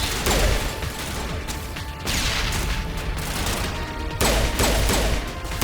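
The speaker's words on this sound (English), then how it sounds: "Okay, I'm gonna use the grenade." A grenade going off in the video game Mass Effect, with rapid crackling bursts and booms repeating over a few seconds amid continuous battle noise.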